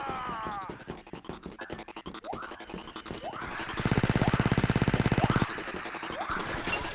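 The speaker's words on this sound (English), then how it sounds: "I like the chain gun." Chain gun fire in Battlefront 2, heard as a dense, rapid burst of about one and a half seconds amid scattered game shots and whooshing effects, with a short break before and after.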